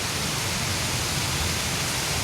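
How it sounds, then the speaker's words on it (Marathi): Steady rain falling outdoors during a cool rainy spell, a dense, even hiss that holds without a break from start to finish, with no talking. "बघा कसं गार गार वातावरण झाले पावसामुळं."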